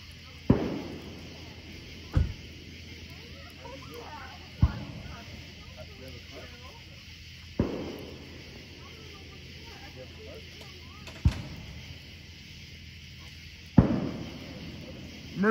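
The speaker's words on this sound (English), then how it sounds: "They know it's fireworks." Fireworks bursting outdoors near a canvas tent, about six sharp distant booms spaced irregularly over steady background hiss, with people talking quietly between them.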